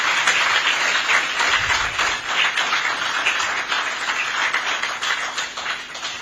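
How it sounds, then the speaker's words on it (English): Crowd applause at a digital city launch event in Imo, Nigeria, a full, sustained burst of many hands clapping that holds steady for several seconds before easing slightly. "So give yourself another round of applause."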